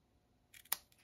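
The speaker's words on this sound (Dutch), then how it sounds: "mijn papierschaartje." Small paper scissors snip through paper during stamping craftwork, giving a quiet cluster of crisp, brief cutting clicks close up, with one sharper snip standing out and no talking.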